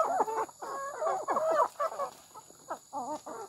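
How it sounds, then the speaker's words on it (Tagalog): Native chickens feeding, their busy clucks and short calls coming close and clear in bursts over the pecking, with no talk. "ang native na chicken"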